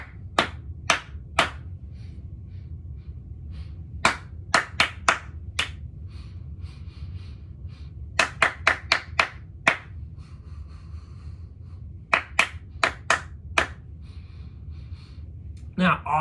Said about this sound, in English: I like how everyone was clapping.